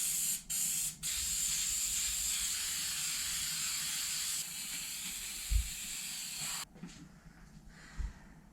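Adhesive sprayed from an aerosol can onto the headliner of a 1997 Ford Powerstroke truck, a steady loud close hiss running for several seconds with brief breaks, then stopping, followed by faint handling noises.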